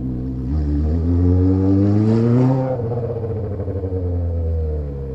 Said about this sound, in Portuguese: o tiozinho ali escutou o barulho da moto